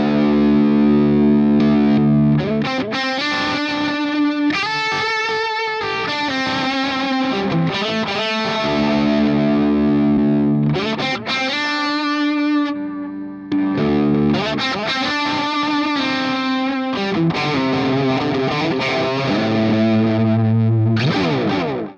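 Electric guitar played through a Mosky Super Delay pedal into the front end of a distorted amp: loud, sustained overdriven notes and chords with echoing repeats that smear and distort as they decay, no talking.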